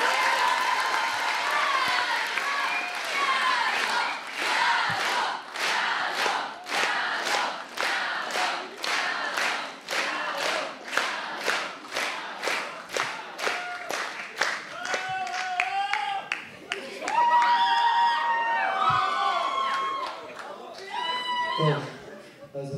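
An audience at a Kabbalat Shabbat gathering for an eighth-grade class claps in steady rhythmic unison, with cheers and shouting rising over the beat and voices taking over near the end.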